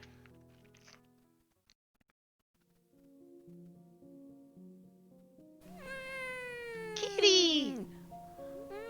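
A black cat in the video game Devil's Door meows with rising, drawn-out cries over soft game music, the loudest yowl coming near the end.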